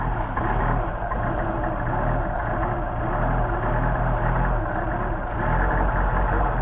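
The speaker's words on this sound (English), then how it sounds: "as I move the choke, the idle increases" A Mercedes 190SL engine fed by Solex carburetors idles close by, a steady low rumble with an even, unbroken drone throughout.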